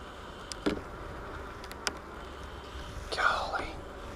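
Honey bees humming at an opened beehive during an early spring inspection, a steady low buzz with a few sharper knocks and a short whispered voice over it.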